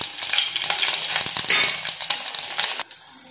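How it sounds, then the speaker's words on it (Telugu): Mustard seeds and garlic hit hot oil for a tomato rasam tempering, giving a loud, close sizzle full of crackling pops that runs steadily for almost three seconds, then cuts down sharply. "ఆయిల్ కాగింది ఇందులో ఆవాలు వేసుకోవాలి తర్వాత కొద్దిగా ఎల్లిపాయలు"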